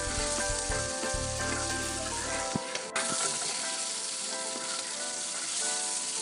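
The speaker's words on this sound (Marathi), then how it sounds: "चांगलं हलवतच राहायचं, चांगलं डाग पडत तोपर्यंत।" Green chillies sizzle and crackle steadily in hot oil in a pan, loud and close, with the clatter of a spoon stirring them partway through and no one talking.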